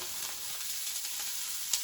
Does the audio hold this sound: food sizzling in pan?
yes